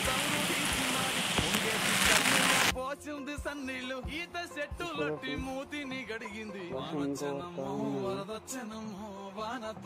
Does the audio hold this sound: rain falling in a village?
yes